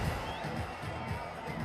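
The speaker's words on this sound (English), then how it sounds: "the joy, the eruption from the crowd tells you" A stadium crowd at a cricket match between India A and Pakistan A roars steadily after a catch, a dense, continuous wash of cheering noise with no distinct voices.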